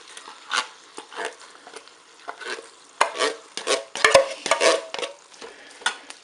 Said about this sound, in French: Maintenant, je vais ajouter dans la cuve de mon Cookéo les lentilles.